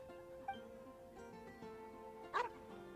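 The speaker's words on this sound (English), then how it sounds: "Stop barking at me, doggy." A dog in the video game Genshin Impact barks once sharply in the middle distance over soft, steady in-game music, with a fainter earlier yip.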